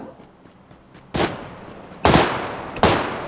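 Three sharp, loud gunshots ring out at irregular intervals over a quiet background hum, each with a short echoing tail, in PUBG on PC.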